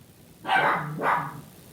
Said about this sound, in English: I'm going to go see what they're barking at.